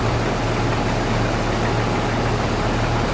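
A tractor engine runs steadily in a canola field at harvest, a constant low rumble with a droning hum, close and loud throughout, with no talk.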